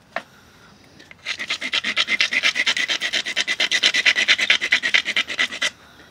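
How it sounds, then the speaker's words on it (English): A stone grinds down the sharp edge of a flintknapped piece in a run of about forty fast, even rasping strokes, close and loud, starting after a single scrape and stopping abruptly. "If you stone grind that whole edge down"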